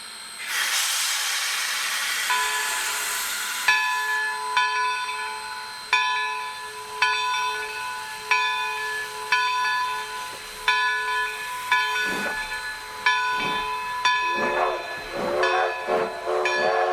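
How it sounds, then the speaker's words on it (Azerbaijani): A Moscow passenger train pulls into a station with a burst of hissing steam or air, then a sustained tonal whine and a regular series of rhythmic clacks as the carriages roll past, close and prominent. "Budur oğlum, bizim qatar gəldi. Bax, gördün, Moskva qatarı."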